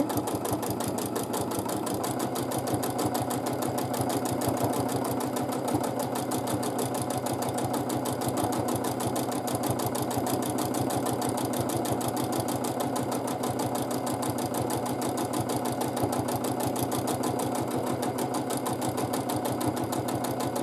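A sewing machine stitches free motion quilting in a steady, fast mechanical whir with a rapid needle rhythm, running close and continuously throughout.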